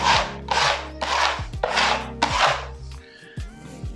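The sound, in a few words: rubbing down easy-fill wall filler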